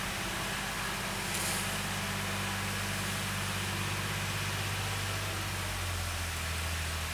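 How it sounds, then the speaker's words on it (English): A steady low engine drone with broadband rumble from a tractor approaching from behind, holding fairly constant, with no talking. "you can hear the sound of a tractor"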